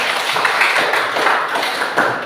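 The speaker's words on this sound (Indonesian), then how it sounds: "Mari kita berikan aplaus untuk kelompok 1" Classroom applause for a student group after their presentation: a short burst of steady clapping from several hands, close and fairly loud, lasting a couple of seconds.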